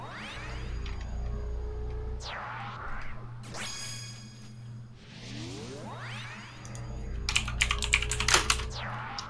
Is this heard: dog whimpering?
no